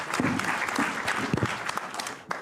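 Applause from a conference audience at a legal session on arbitration, a brief burst of dense clapping with a few louder claps standing out, fairly steady throughout.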